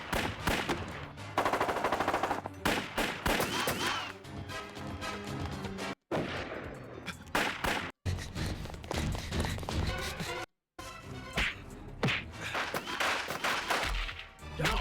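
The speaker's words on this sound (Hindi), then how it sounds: "नकली बंदूक है, इनकी फायरिंग में मजा नहीं है।" Gunfire from the climax of the film Sarfarosh, dense bursts of machine-gun and rifle shots with crashes, loud and continuous across the whole stretch, broken only by a few brief silent cuts.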